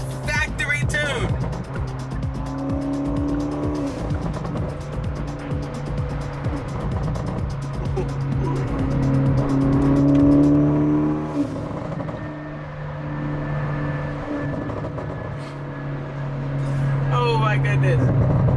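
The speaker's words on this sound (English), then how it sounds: "This is what an Elantra N can do." Hyundai Elantra N on the factory tune with a titanium valve exhaust revs hard and steadily, a droning engine note rising and falling over about eighteen seconds, loud and close, with excited voices cutting in now and then.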